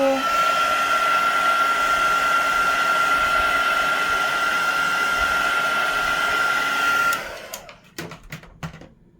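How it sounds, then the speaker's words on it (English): A craft heat tool blows hot air steadily over a handmade card, a loud, even whine with no talk, cutting off abruptly near the end and leaving a few faint clicks and handling sounds. "I'm going to hit that with my heat tool."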